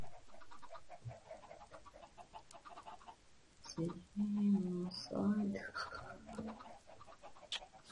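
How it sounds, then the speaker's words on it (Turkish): A Minecraft chicken clucks in a few short bursts partway through, mixed with quiet game sounds while a person talks softly nearby. "Terbiyesiz tavuk."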